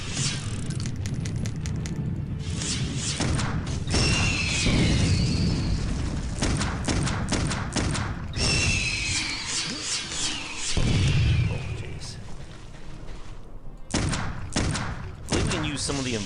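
Repeated booming explosions and gunfire bursts in the action game Clive Barker's Undying during a boss fight, loud and clustered, with game sounds and voices between blasts.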